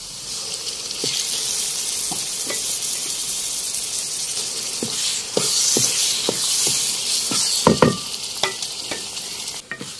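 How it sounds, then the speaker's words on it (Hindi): Ginger frying in oil with salt and chilli for sarson ka saag makes a constant bright sizzle, punctuated by scattered sharp pops and utensil taps, fairly loud and close, with no talking. "अब थोड़ी देर के लिए इसको भून के फिर मैं साग शामिल कर दूंगी"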